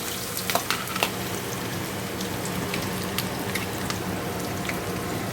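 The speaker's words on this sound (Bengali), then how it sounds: "আলু পেঁয়াজ দুটোই একসাথে দিয়ে দিলে ভাজা হয়ে যাবে।" Sliced potatoes and onions fry together in a pan, giving a loud, continuous sizzle with a few sharp spatters and stirring clicks near the start.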